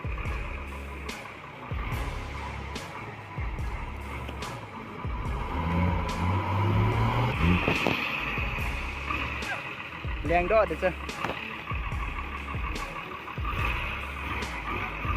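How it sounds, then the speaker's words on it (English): A log-laden truck stuck in river mud with its wheels spinning: a loud, continuous engine roar that swells and revs throughout, with splashing water and voices in the background. "A truck carrying small logs was crossing a river when it suddenly got stuck in the mud."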